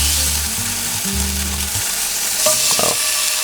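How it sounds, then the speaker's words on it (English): Bacon sizzles in a hot frying pan with a steady broadband hiss and crackle throughout, close and loud, with a brief low hum and a few light clatters of a utensil near the end. "You hear that sizzle?"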